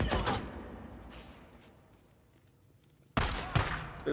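Gunfire in the video game Days Gone: a quick burst of shots at the start, then a quiet stretch, then more loud bursts of rapid fire near the end, with no talk.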